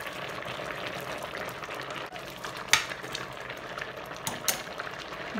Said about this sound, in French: Donc on va cuire pour voir ce que ça donne.